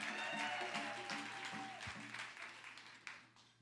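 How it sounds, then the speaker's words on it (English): Audience at a live comedy show claps for several seconds, a dense wash of applause that slowly thins out, with a low steady hum underneath. "Yeah, clap for 대장금"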